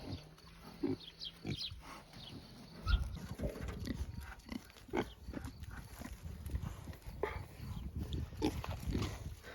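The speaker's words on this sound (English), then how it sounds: "I have a lot of very curious pigs who think the wheelbarrow is here to scratch themselves on." Curious pigs root and shuffle around a wheelbarrow in a pig pen, giving soft grunts and snuffles amid scraping and trampling noises, fairly close and continuous without talk.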